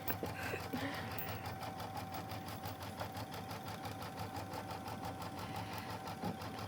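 A sewing machine stitches a quilt with a steady, fast rhythmic chatter that carries throughout at moderate loudness.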